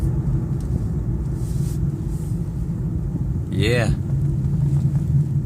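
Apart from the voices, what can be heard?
2015 Infiniti Q50 driving and accelerating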